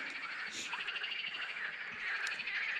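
Frogs croak in a steady dense chorus beside a fishing pond, with birds and nightingales singing faintly over it and occasional brief chirps standing out.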